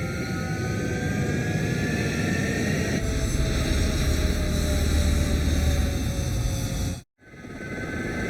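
Fighter jets taking off in the video game Ace Combat 7, a loud continuous roaring engine wash with rising whine, cutting abruptly to silence near the end before the roar returns.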